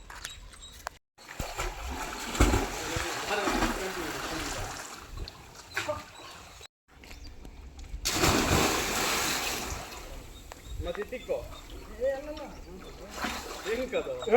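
Friends splash into a fresh, blue-water well, with bursts of water crashing and slapping between stretches of excited chatter and shouting nearby.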